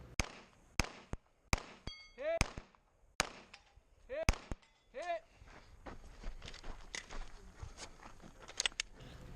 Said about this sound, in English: when I go to shoot at the targets on top of the berm